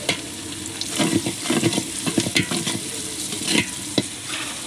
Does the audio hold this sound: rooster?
no